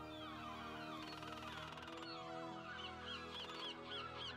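Video game birds in a samurai adventure setting, soft warbling and honking calls drifting over a steady layer of musical tones, faint and continuous.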